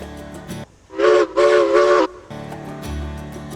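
A steam locomotive whistle in the train game Railroads Online gives a loud tonal blast of about a second, cutting over the chuffing and rumble of the engine, which carries on before and after.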